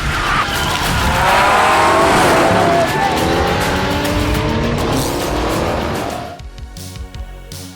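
Race cars scream past during a film car race, a loud sustained engine roar with tire squeal and skidding that sweeps across and fades out abruptly near the end.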